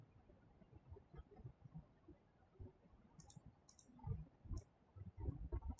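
A computer mouse clicks several times in quick, sharp, faint taps while working in a disk partition program, over a soft background with low thumps.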